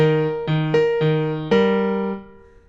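Piano notes in a short phrase, bass and treble alternating then struck together, the last chord ringing out and fading.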